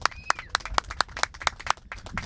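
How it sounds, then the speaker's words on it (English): Claps ring out at an outdoor ceremony opening a community skateboard park, sharp, distinct hand claps in a quick uneven rhythm, close and fairly loud, from a small gathering. "Big applause."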